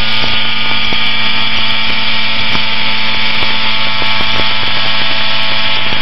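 Small training airplane engine droning steadily in level flight, a loud, constant buzzing hum with a tight harmonic whine heard from inside the cockpit, with no talk over it.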